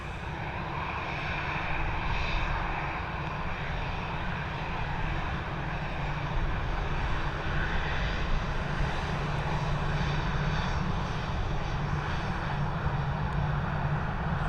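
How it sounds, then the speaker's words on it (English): An Aer Lingus Airbus A320 jet departing Dublin Airport roars steadily in a broad, even rumble that holds at a constant loudness throughout, with no voices. "we are watching this departure heading over to Milan, this Airbus A320"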